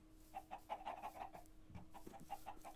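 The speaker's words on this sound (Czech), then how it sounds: "Slepice uřvaný" Chickens in the Minecraft video game cluck in a quick, repeated series of short calls over a steady low hum, with one brief pause in the middle before the clucking resumes.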